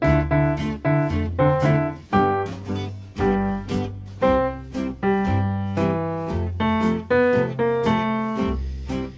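A plucked Super Mario Bros melody plays over a steady backing track of bass and chords, notes picked in a lively rhythm, loud and close with no voices.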